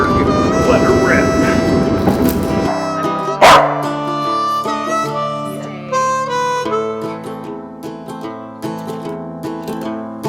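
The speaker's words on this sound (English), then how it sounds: "Dogs." Several dogs bark loudly and close by, mixing yips with drawn-out whining, howl-like cries in a blacksmith's forge shop.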